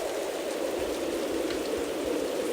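Steady, dense rain pours continuously with strong wind in an animated Hindi story, a constant loud hiss with occasional drops standing out, no voices.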